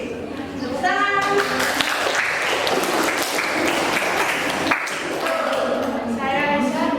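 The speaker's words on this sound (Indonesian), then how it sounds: "Tepuk tangan." Group applause in a teacher-training discussion session, steady clapping filling the room, with a voice speaking at the start and again near the end.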